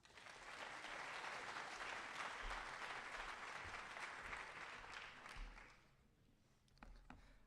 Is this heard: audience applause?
yes